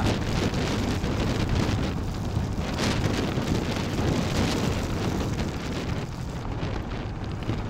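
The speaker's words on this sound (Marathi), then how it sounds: "पाऊस काय जास्त जोरात आला रे बाबा" Heavy monsoon rain pours down during a motorcycle ride from Mumbai toward Diveagar on the Konkan coast, a dense, steady roar mixed with wind buffeting the microphone, with no talking.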